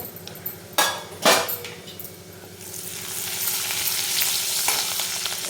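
Spices fry in oil for a Kolhapuri mutton curry, starting with a couple of loud spoon knocks against the pan, then a rising, steady hiss of sizzling oil with occasional stirring scrapes, close by and without talk.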